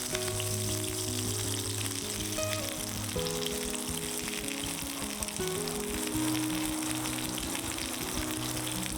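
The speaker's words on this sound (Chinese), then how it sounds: "一边煎一边按压，听着热油发出滋滋的响声" Teriyaki chicken cutlet fries in hot oil with a steady, continuous sizzle that lasts the whole stretch, mixed with tonal background music.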